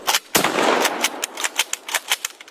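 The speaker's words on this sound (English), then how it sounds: "It'll pull a round from this magazine and then this magazine, just back and forth until it's empty. And I don't think it is empty. No, we got one more, so let's shoot that one." Rapid gunshots from a double-magazine gun that alternates feeding between two magazines, a quick irregular string of sharp close cracks with echoing tails.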